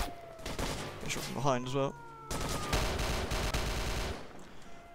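Rapid bursts of gunfire aimed at the player in S.T.A.L.K.E.R. Shadow of Chernobyl crackle in clusters, loud and close, while someone talks over the shooting.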